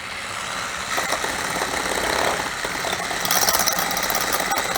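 An electric mixer whirs steadily while beating egg whites for coconut macaroons, a close, continuous buzzing motor drone with faint rattling, rising slightly in intensity toward the end and with no talk.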